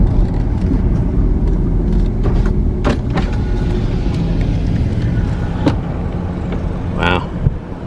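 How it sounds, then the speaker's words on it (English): A car drives along a rural road near a small, nearly deserted Oklahoma town, giving a steady engine and road rumble throughout with occasional clicks and bumps, and a brief higher tone near the end. "let's drive down and take a look here."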